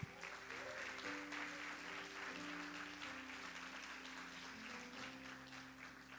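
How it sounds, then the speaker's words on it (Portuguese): A church congregation applauds steadily and loudly throughout, a dense wash of clapping from many hands, with sustained organ or keyboard tones underneath and a few raised voices. "Aplauda o Senhor por isso."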